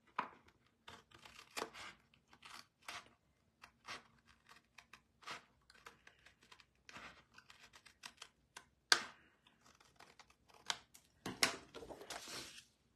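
Scissors trimming the border of a holiday paper pumpkin craft, a quiet, close series of irregular snips and paper rustles spread over about thirteen seconds with short pauses between cuts.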